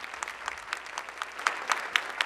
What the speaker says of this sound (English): One more big applause for our students today